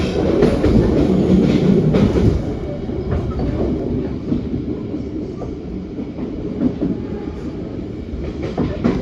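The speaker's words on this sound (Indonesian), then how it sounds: "kok bisa-bisanya ya sekelas kereta lokal ini melintas langsung di stasiun besar macam Wonokromo" A local train runs straight through Wonokromo station in Surabaya with a loud, close, steady rumble and rhythmic wheel clatter, easing slightly after the first couple of seconds. No voices.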